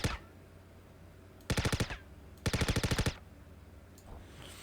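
Automatic gunfire in the Star Citizen game comes in two short, crisp bursts of rapid shots, each lasting about half a second. A single sharp shot is heard at the start, with quiet gaps between the bursts.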